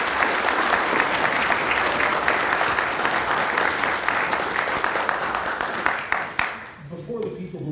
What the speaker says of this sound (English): Let's all give them a great round of applause.